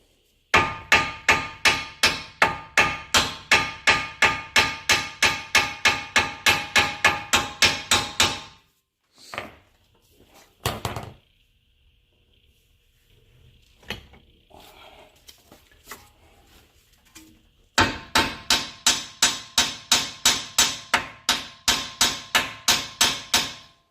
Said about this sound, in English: put a little pressure on there, and then start working the hammer